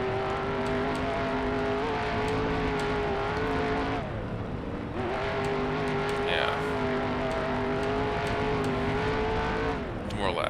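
A dirt race car in the sim game RSR Dirt Sim drifts on a red clay track in Alabama, its engine droning loudly with rising and falling revs as it slides, with a voice talking over it.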